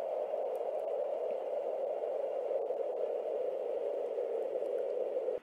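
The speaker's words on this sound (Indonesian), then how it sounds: "suara angin" Wind sound effect played as a guessing-game puzzle: a steady, unbroken whooshing hiss that holds at an even level for about five seconds and then cuts off abruptly, with no voices.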